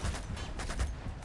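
Rapid gunfire in the video game Uncharted 2: a quick burst of several close, punchy shots over a rumbling low background, loud and continuous for a moment.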